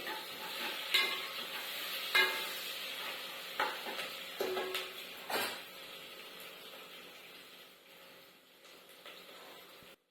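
Onions with salt frying in oil in a pan, a steady soft sizzle with a few sharp scraping stirs of a utensil.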